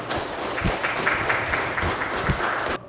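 Social workers at an award ceremony applaud themselves, a steady dense wash of clapping from a crowd with a few heavier claps standing out, lasting about three seconds before cutting off.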